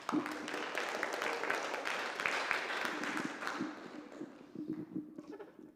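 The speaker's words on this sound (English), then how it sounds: "let's give him a big round of applause" Audience at a high school film festival screening applauds for an absent filmmaker, a crowd's clapping that swells early and gradually thins and fades toward the end.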